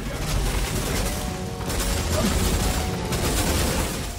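Sustained gunfire in the video game Turok (2008) forms a continuous, dense rattle of shots throughout, with a voice talking faintly underneath.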